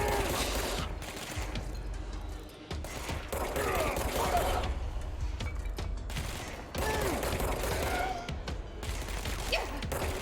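Enemy machine gun fire in the action game Control during a boss fight: sustained rapid bursts with short pauses, loud and dense, mixed with mechanical clatter.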